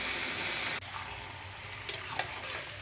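Goat meat fries with onions, cinnamon and whole garam masala in a pan, a loud close sizzle that drops suddenly, followed by a quieter hiss with a couple of scraping stirs of a spatula.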